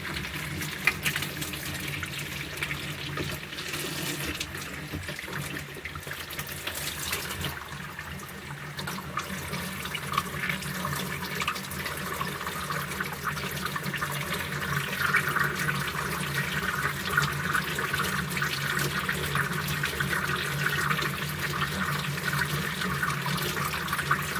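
Tap water runs steadily into a sink for the final rinse of freshly developed black and white film, a continuous, fairly loud rushing stream that holds for the whole stretch and swells slightly toward the end.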